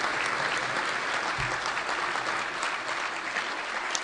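A banquet-hall audience at a gun rights policy conference awards lunch applauds the award winners with a steady, sustained roar of many hands clapping at once.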